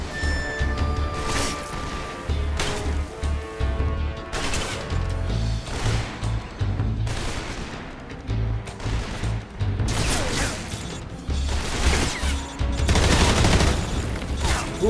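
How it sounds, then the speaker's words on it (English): Bursts of gunfire in a Metal Gear game, repeated volleys and crashes in an irregular rhythm, loud and busy with music-like tones underneath, no talking. "Where are those bullets coming from?"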